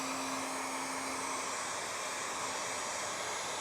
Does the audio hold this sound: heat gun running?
yes